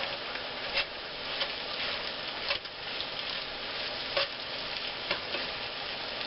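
Cornish hens frying in oil in a pan on low heat, with a steady close sizzle and crackle and occasional scraping stirs of a utensil cutting through.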